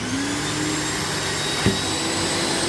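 Sofa cleaning machine running with steady vacuum suction during upholstery rinsing, a continuous loud whooshing drone with a brief thump partway through, no talking.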